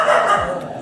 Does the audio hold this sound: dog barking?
yes